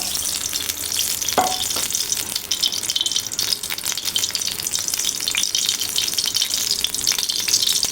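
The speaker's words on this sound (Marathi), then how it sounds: "तेल तडतडायला लागलं" Oil heating for tempering in a home kitchen pan, preparing a dried shrimp and potato curry, crackles and sizzles steadily and close up, a continuous bright hiss with a few sharper pops and no talking.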